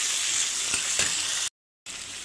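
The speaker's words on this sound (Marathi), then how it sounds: "टोमॅटो चांगलं परतून घेऊया" Chopped onion and tomato sauté in a pan for chicken pulao, making a close, even sizzle with a couple of soft stirring taps, broken by a brief moment of total silence.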